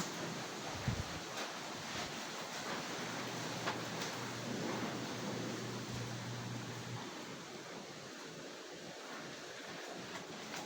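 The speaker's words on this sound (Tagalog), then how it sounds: "Malakas yung hangin guys." Steady roaring wind buffeting outdoors, constant and broadband, with a low hum running underneath for a while.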